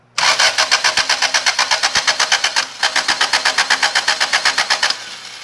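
A 1978 Toyota Corolla engine cranks over with a fast, even rhythmic chugging of the starter in two long runs separated by a brief pause, loud and close, without catching to a steady idle.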